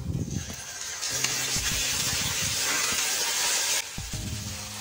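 Chicken frying in a cup of oil with browned chopped onions for a chicken curry, a steady loud sizzling hiss filling most of the clip, with some clatter underneath and a short dip near the end.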